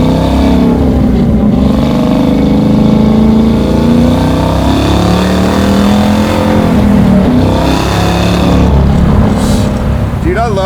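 Supercharged 650 hp LT4 V8 in a 1968 Camaro restomod with a six-speed, pulling hard with a loud, smooth rising engine note and shifting revs, heard from inside the car with people talking over it.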